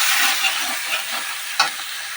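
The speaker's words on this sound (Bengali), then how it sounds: "হাফ চামচ জিরে মরিচ দিয়ে ফের ভালোভাবে মশলাটাকে কষে নিলাম" Cauliflower and ground spices with cumin sizzling as they are sautéed in a pan, a steady frying hiss with soft stirring scrapes and one sharp clink near the end.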